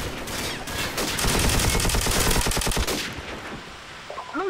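An M60E4 machine gun fired in Call of Duty 4, one long loud sustained burst of rapid, evenly spaced shots lasting about three seconds, then a pause and a short stray noise, with no voices.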